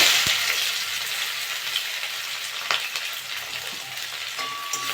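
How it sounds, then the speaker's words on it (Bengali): Onions frying in spiced oil in a pan for aloo dum, a steady close hiss and sizzle with a few faint clicks of stirring, no voices. "পেঁয়াজটা ভালো করে ভেজে নেব"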